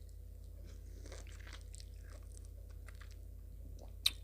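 Biting and chewing an orange, soft wet crunches close to the mic over a constant low hum, ending with one sharp bite.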